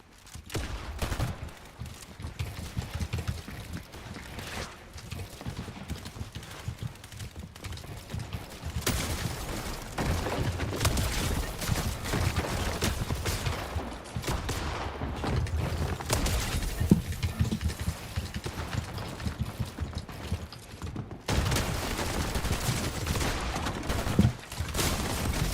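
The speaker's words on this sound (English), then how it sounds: "This SMG is so annoying." SMG gunfire in a Fortnite match: rapid bursts of shots crackle repeatedly over game ambience, loud and dense, with short gaps between volleys.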